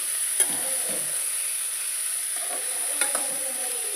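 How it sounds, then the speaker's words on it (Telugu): Chopped ivy gourd (tindora) stir-fried in a pan, giving a steady broadband sizzle with a few soft scraping stirs near the start and again toward the end, no voices present. "కట్ చేసి పెట్టుకున్న దొండకాయలు యాడ్ చేసుకుని మొత్తం అన్నీ మిక్స్ చేసుకుంటున్నాను"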